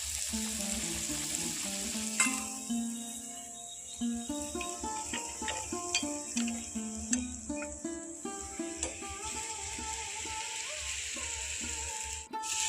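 Mango luchi, wheat dough mixed with ripe mango, deep-frying in hot oil, giving a steady close crackling sizzle with bright popping bubbles throughout and a few sharper clinks of a utensil against the pan.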